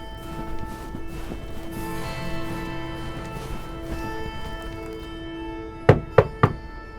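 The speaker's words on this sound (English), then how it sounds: "Knock, knock." Three sharp knocks land on a door in quick succession, close and loud, after several seconds of low ambient background noise.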